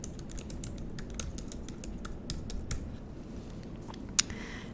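Close, soft ASMR tapping on a computer keyboard: quick irregular keystrokes in a quiet room, with one sharper click near the end.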